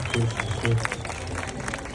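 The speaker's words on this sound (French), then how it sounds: "Bon, on va l'applaudir, il a fait un super effort." A crowd at an outdoor bird of prey show in Tournai applauds after a raptor's flight, brief scattered clapping mixed with a voice and low background murmur.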